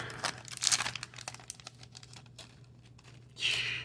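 A Dominaria Remastered Magic booster pack wrapper is crinkled and torn open, with bursts of foil crackling and tearing up close over a faint low hum.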